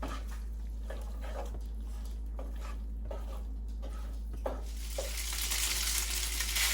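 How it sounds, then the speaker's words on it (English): Spaghetti sautés in oil with a soft crackle and scraping stir strokes, then the sizzle swells louder and brighter near the end. "It's nice and covered with the oil, and like you can hear, it's cooking."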